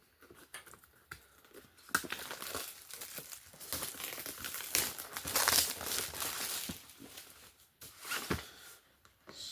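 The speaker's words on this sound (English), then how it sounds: "So it's covered in plastic shrink film." Plastic shrink film crinkling on DJI Mini 4K drone packaging, close, crisp crackling in irregular bursts that swell and fade, with sharp snaps among softer rustles.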